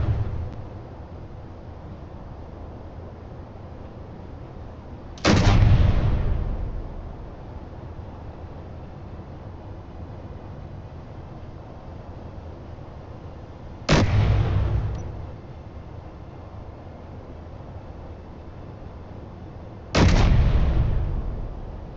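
Weapon fire blasting at a ship's thrusters in Project Prototech, heard as three separate heavy booming bursts spaced several seconds apart, each a loud blast that fades over steady low background noise.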